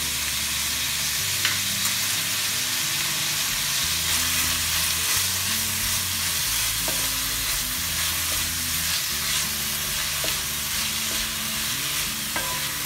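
Onions sauté with salt in a pan for a Kerala-style egg curry, giving a loud, continuous close-up sizzle with occasional soft stirring scrapes and no talk.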